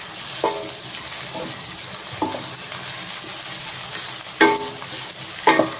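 Curry leaves fry in plenty of oil for chicken kulambu, a continuous crackling sizzle broken by a few sharp clinks and scrapes of stirring, heard close with no speech.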